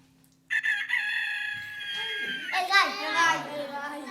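A human voice imitates a rooster's crow, one drawn-out, close, wavering call, with a voice also heard.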